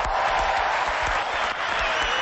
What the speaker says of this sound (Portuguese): Eu peço mais uma vez uma salva de palmas para a Sabrina